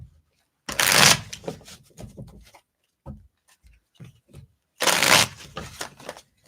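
A deck of cards is shuffled in two loud, close riffling bursts, with softer taps and handling of the cards between them and no voices.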